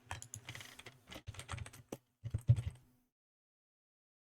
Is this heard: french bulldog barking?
no